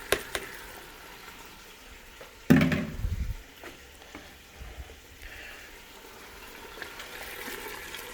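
Tomatoes drop into a pan of simmering shrimp scampi with a sudden splashy hiss, then the pan settles back to a quiet, steady bubbling and sizzle with a few faint knocks.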